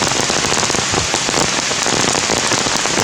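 Heavy, steady rain falls in the jungle, with a dense, loud hiss of drops on surfaces close by and no voices.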